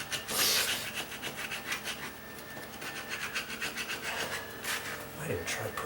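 A regular wood chisel scrapes along a linoleum floor in short, repeated rasping strokes, close by and fairly quiet, with a few harsher pushes standing out.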